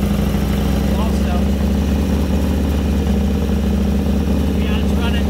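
A Harley-Davidson Dyna engine with a swapped-in 42mm carburetor idles steadily close up, a continuous low rhythmic thump with slight throttle variation, as people talk nearby.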